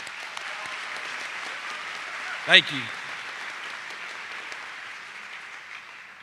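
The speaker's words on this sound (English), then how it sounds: "Give yourself a round of applause for that." An audience at a high school graduation ceremony claps in a steady wash of applause from start to finish, and a speaker briefly talks over it.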